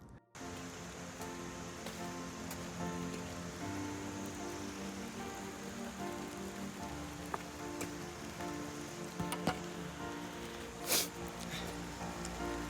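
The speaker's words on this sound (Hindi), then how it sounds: "दोबारा बारिश शुरू हो गई है" Steady rain falls during a motorcycle ride in the mountains toward Hemkund Sahib, a soft continuous patter heard close by, with a few sharper drops and faint background noise throughout.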